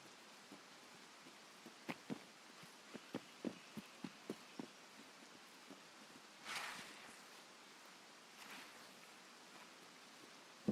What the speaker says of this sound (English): The rain is messing with me.